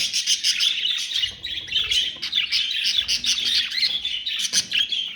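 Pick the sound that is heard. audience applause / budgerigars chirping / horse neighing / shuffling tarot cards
budgerigars chirping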